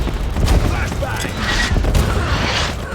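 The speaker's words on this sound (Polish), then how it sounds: "Flashbang!" A flashbang grenade in a video game goes off amid loud, close gunfire, with sharp bangs and a hissing burst over dense shooting, and a voice shouts briefly.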